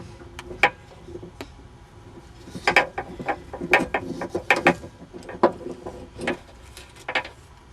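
Socket wrench working bolts out of a 2001 Volvo V70 XC bumper, giving clusters of sharp, close ratcheting clicks in irregular bursts with brief pauses between.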